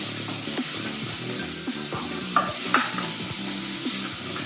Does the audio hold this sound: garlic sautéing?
yes